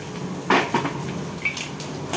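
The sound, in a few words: onion added to a pan and sautéed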